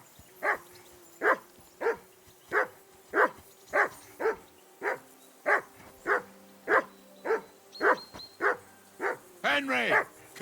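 A dog in Kingdom Come: Deliverance II barks in a steady run of about fifteen sharp, evenly spaced barks, close and loud, ending in a higher whining whimper.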